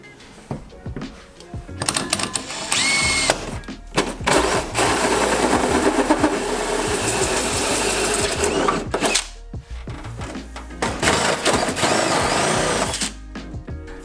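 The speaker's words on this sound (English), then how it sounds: "Now I've just been trying to grind it down a little bit on the belt sander here" A belt sander whirs and grinds against metal engine mounts in sustained bursts, loud and close, with short pauses between passes.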